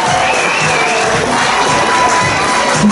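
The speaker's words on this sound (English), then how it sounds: "Give a round of applause for Amy," A talent-show crowd in a social club roars after an act, loud cheering and shouting with children's voices mixed in, a dense wash of crowd noise with only light clapping underneath.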